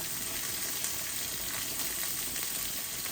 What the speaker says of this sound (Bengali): একটু ভাজা ভাজা করে দিলে শুটকিটা গ্রান আসবে